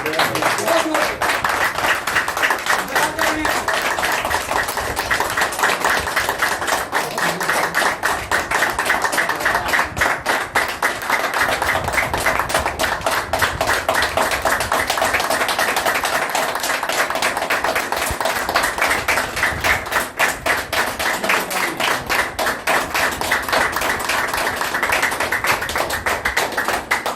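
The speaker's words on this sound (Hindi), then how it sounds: "तो इसी बात पे तो बहुत जोर से तालियां बजाएंगे" A group at a team juice party claps loudly and continuously for nearly half a minute, a dense, sustained patter of many hands with voices mixed in.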